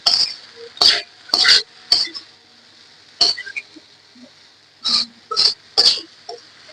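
Noodles being stirred with spice mix in a pan, close and loud, in a run of short scraping strokes at an uneven rhythm, with brief pauses between bursts.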